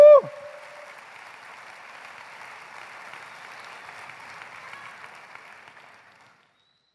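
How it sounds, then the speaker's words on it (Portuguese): A church congregation applauds steadily for about six seconds, a broad even clapping that fades out near the end, with a brief voice at the start. "aplauda o Senhor, Ele é digno."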